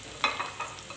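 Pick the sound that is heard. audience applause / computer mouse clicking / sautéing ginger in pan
sautéing ginger in pan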